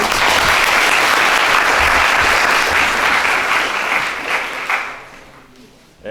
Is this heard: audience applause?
yes